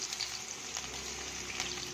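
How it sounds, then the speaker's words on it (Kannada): Green chillies and chopped onion hit hot tempering oil with mustard seeds and cumin, giving a steady, close sizzle and crackle that runs unbroken with no talking. "ಈಗ ಹಸಿಮೆಣಸಿನಕಾಯಿ ಉಳ್ಳಾಗಡ್ಡಿ ಮಿಕ್ಸ್ ಮಾಡಿ ಹಾಕೋತೀನಿ."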